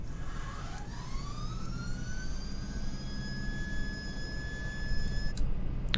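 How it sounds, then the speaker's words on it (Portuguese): A Caproni C-22J jet engine spools up in Microsoft Flight Simulator, a steady rising whine climbing in pitch over a low rumbling background, fairly faint and with no talk. "Left Vent é aqui, vão ouvir o barulho do motor."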